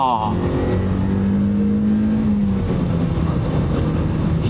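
A Mazda MX-5 Miata NB pulls hard during spirited road driving, its engine note climbing and then dropping at a shift, steady and close, with someone speaking over the engine.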